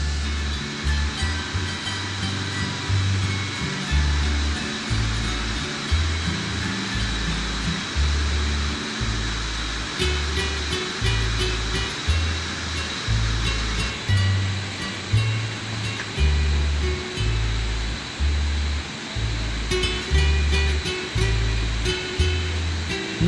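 A full, fast-flowing river in Chiapas roars on steadily without a break, a loud, dense wash of rushing water heard near at hand.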